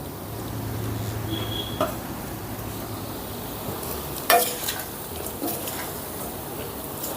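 Bitter gourd frying in oil in a pan with garlic chili powder stirred in, giving a steady close sizzle broken by a few clinks and scrapes of a spoon against the pan.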